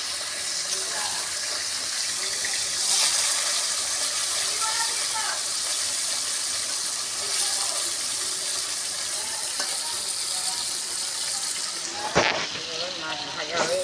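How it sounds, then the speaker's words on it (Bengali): Katla fish fries in hot oil in a pan, a dense, steady hiss and crackle lasting throughout at close range, with a brief clatter near the end. "এই মাছ ভাজা হচ্ছে।"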